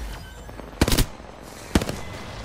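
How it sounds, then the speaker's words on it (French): Burst-fire weapon like the Hemlok in Apex Legends, two sharp quick bursts of several shots each, loud and close, separated by about a second of quiet. "Ah, c'est la rafale comme la M-Lock."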